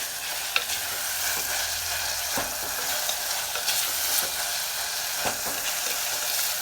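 Food for a Kerala home-style lunch is stirred in a hot pan, giving a steady close sizzle with scattered spoon scrapes and taps.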